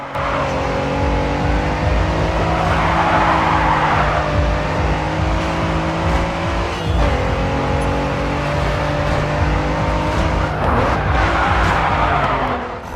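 A race car skids in the racing video game Grid 2, its engine droning loudly throughout with tire squeal rising in swells, accelerating and sliding through a corner.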